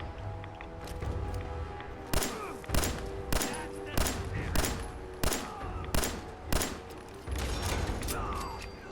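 Repeated gunshots from the video game Fallout 4 ring out in a steady series of about nine sharp, fairly loud cracks over a constant mechanical background hum, with no talking.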